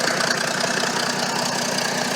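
A Ford tug's engine idling just after its first start, a steady close mechanical rumble with a fast even knocking pulse and no voices.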